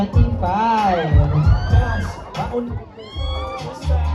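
A fiesta crowd at a pageant cheers and shouts in excited bursts, with high whoops and overlapping voices rising and falling over a few seconds, close and lively.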